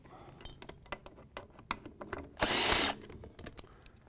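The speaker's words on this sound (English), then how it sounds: "Now we're going to take the pan off. This is a number 30 Torx bit." A power drill with a number 30 Torx bit removes transmission pan bolts on a Mercedes 722.9 automatic transmission, a single short loud whir of about half a second amid quiet clinks and handling noise.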